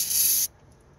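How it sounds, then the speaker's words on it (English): Carburetor cleaner hisses out of an aerosol can through a straw into an EFI engine that cranks but won't start, a loud close spray that lasts about half a second and then cuts off abruptly. "What you wanna do is you wanna spray it in there."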